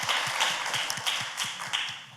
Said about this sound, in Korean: 우리 살아계신 하나님께 감사와 찬양의 박수 올려드리겠습니다